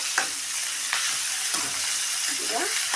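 Fenugreek and tomatoes fry in hot oil with a steady, close sizzle. Stirring scrapes through it at a regular rhythm, about every half second.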